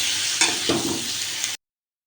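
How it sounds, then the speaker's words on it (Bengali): Potato and eggplant stir-fried in a pan with sprinkled turmeric and red chili powder: a steady close sizzle with scraping stirs, cutting off abruptly into silence near the end. "এবার ভালোভাবে নেড়ে চেড়ে"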